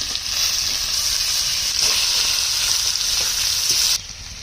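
Koi fish frying in hot oil in a pan, a loud continuous sizzle with faint stirring clatter, dropping abruptly quieter near the end as the fish is turned over.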